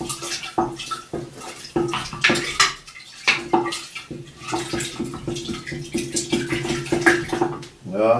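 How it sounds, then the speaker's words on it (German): Honey is stirred into cherry liqueur in a pot, with repeated clinks and scrapes of a utensil against metal and light liquid swishing, while a person talks over it. "Das Ganze wird jetzt gerührt,"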